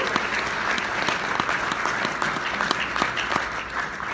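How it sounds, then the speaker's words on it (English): An audience at a morning business conference gives itself a round of applause, a dense, steady wash of many hands clapping at even loudness throughout, with no voices standing out. "Let's give yourselves a round of applause."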